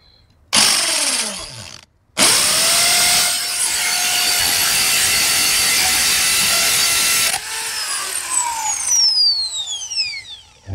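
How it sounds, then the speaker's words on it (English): A hammer drill fitted with a small masonry bit bores holes for mounting solar wall lights: a short burst, then one long steady whining grind lasting several seconds, before the motor winds down in uneven spurts. Loud and close, with no talking. "I got my hammer drill here, and then I got my little masonry drill bit in there"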